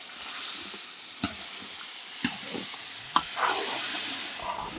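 Fish curry bubbling and simmering in a pot with a soft steady hiss, punctuated by a few sharp clinks and stirring noises.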